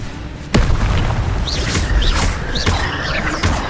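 Incendio fire spell cast in Hogwarts Legacy, a sudden loud burst followed by a sustained fiery roar with several rising whooshing flourishes layered over a rumbling game soundscape.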